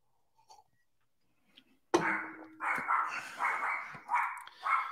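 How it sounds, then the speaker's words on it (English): A dog barks several times in quick succession, loud and close, after a few faint whimpers in near silence. "This dog."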